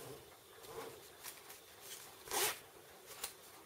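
Quiet, short rasping pulls of a zipper being handled while sewing a softshell vest, several brief zips with one louder stroke near the middle, close and alone.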